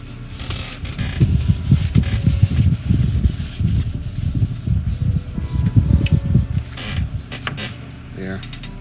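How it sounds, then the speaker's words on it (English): Rubbing and wiping on a plastic part from a 1979 AMT Star Trek U.S.S. Enterprise NCC-1701 refit model kit, freshly coated with thinned Tamiya, gives a close, steady run of soft scrubbing strokes that eases off near the end. "let's try to wipe that down."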